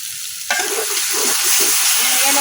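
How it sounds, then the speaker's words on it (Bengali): Spice masala frying in oil in a village kitchen, a loud steady sizzle that bursts in suddenly and continues with faint stirring scrapes, close up. "এখন আমি এই মশলাটা কিছুক্ষণ কষাই নিলাম আমার মশলাটা কিন্তু কষানো হয়ে গেছে একদম উপর থেকে তেল ছেড়ে দিচ্ছে"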